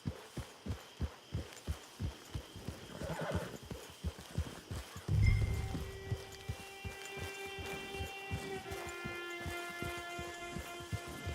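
A horse in Red Dead Redemption 2 trots with a steady clip-clop of hooves, then gives a loud whinny midway and snorts and neighs again toward the end, alone and fairly close.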